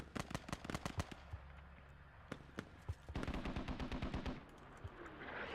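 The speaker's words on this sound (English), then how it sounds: "And here comes some mortars directly on top." Mortar strikes and gunfire in a competitive team video game match land as sharp scattered cracks and booms, with a fast volley of rapid shots in the middle, all fairly quiet and distant.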